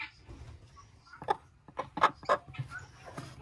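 A hen clucks in a handful of short, fairly close bursts on a farm where the birds are checked for broodiness, with quiet background between calls.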